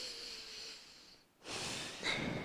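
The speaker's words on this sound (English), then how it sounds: "Take about 2 or 3 breaths here" Deep breaths during a yoga forward fold: a long, close, airy exhale fades out, then after a brief pause a strong inhale rushes in, with no talking.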